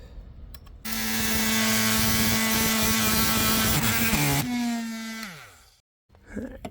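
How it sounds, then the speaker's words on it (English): An oscillating multi-tool fitted with a metal-cutting blade saws through an RV front door, giving a loud, steady buzzing whine for about four seconds that drops in pitch and winds down, with a brief clatter afterward. "So I'm just going ahead and use a metal cutting oscillating blade."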